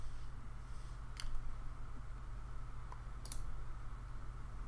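Mouse clicks on a publish button while setting up a Microsoft Bot Framework project: two short, sharp clicks about two seconds apart, heard alone over a steady low hum of room noise.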